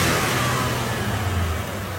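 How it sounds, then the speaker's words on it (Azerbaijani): A quiet car engine runs steadily at close range, giving a constant low hum with a smooth, even drone and no talking. "Çox səliqəli. Çox səssiz işləyir maşın."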